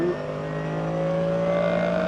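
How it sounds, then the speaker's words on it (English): Onboard with the race leader in a VLN endurance race at the Nürburgring in 2017, the engine holds a loud, steady, rising whine as the car overtakes a TCR Audi, with no talking. "On board with the race leader, and again, carving his way through traffic, just goes by a TCR Audi"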